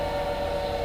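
A train in the video game Choo Choo Charles gives off a sustained horn-like drone, a brief steady tone that is loud and close, with no talking.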